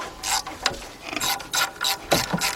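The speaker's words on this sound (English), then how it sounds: "Get my ratchet, see if" A ratchet wrench works a bolt on the exhaust of a 2001 Chevy Tracker 2.5 at the catalytic converter, giving loud, close bursts of rapid clicking in several short strokes with brief pauses between, with no talking.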